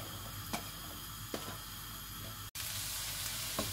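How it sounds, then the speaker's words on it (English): Onions frying in hot ghee give a steady, close sizzle. A few soft stirring clicks sound over it, and the sizzle brightens partway through. "I'm first going to fry these onions until they become nice and golden brown."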